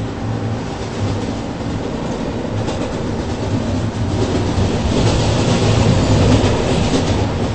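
A rail train runs loudly and close, a steady rumbling roar of wheels and carriage noise that swells slightly toward the end, with no talking.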